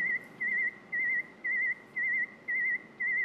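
Steady high-pitched hearing test tone sounding in seven regular pulses, each with a slight warble, over a faint background hiss, with no talking.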